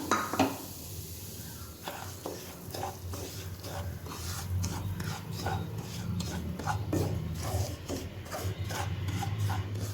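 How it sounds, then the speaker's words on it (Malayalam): Half a cup of semolina (rava) being sautéed in ghee for Chettinad ukkarai makes a soft dry rubbing and scraping as it is stirred, with gentle rhythmic strokes over a faint sizzle, fairly quiet and close. "അര കപ്പ് റവ ഈ നെയ്യിലൊന്ന് വഴറ്റിയെടുക്കണം"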